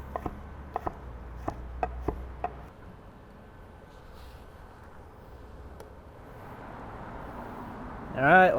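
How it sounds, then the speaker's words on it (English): A knife chops pineapple on a board, a handful of quick sharp taps in the first few seconds, then quiet room tone with a faint rustle and a brief noise at the end. "we can get rid of the core of the pineapple here and chop those however you like them"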